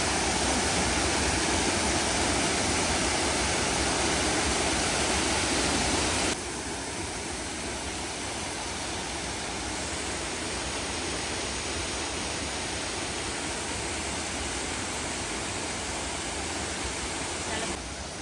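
Broad, steady roar of the waterfall at Hilton Falls, heard from close by on a hiking trail, loud and constant throughout, with a slight drop in level partway through and no talk over it.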